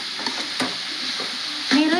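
Egg noodles frying in a pan as turmeric is stirred in, a close, loud sizzle with quick scraping strokes and a brief rising whine near the end.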